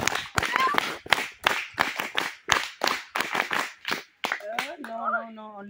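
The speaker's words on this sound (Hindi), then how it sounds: "चलो एक बार स्काउट ताली बजाते हैं सब लोग" A class of seventh-grade students at a school performs a scout clap, a series of loud, sharp group claps in a patterned rhythm, ending with short spoken voices.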